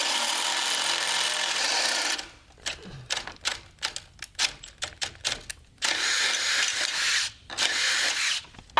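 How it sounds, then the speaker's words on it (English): A power drill bites into metal in short, uneven bursts, with a longer steady whine of drilling at the beginning and again near the end, drilling a hole out to 5/8 inch on an OBS Ford 4x4 truck. "We'll go ahead and drill this one in the lower left corner out to 5/8."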